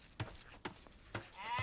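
Sheep bleating in Age of Empires II, three or four short bleats spaced apart over quiet in-game background, a faint game tone rising near the end.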